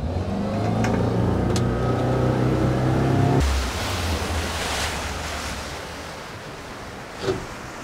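Boat with a Mercury 3-litre 150hp four-stroke outboard doing a hole shot on open water; a loud, steady engine roar for over three seconds drops abruptly into wind and rushing water hiss, with a brief splash near the end.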